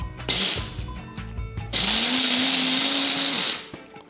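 An electric pepper grinder whirs as it cracks and grinds black peppercorns, a steady close motor drone running for about two seconds after some preceding handling noise, then spinning down.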